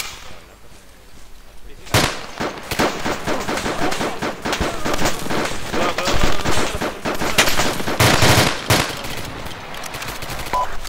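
Rapid automatic gunfire and single shots crackle through an Arma 2 firefight, loud bursts over a steady rattle with a heavy report near the start and more volleys toward the end; no voices over it.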